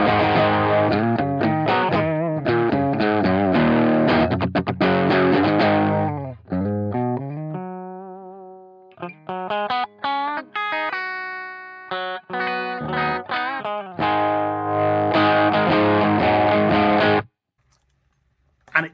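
Electric guitar played through an amp at the edge of breakup with light overdrive, strummed chords and picked single-note phrases in bursts, slightly gritty and sustained, with short pauses between passages and no talking.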